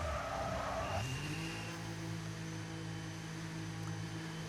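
F1 25 race car in the video game entering the pits at the Netherlands round, a brief tyre squeal or skid followed by a steady engine drone that settles into a lower, even hum.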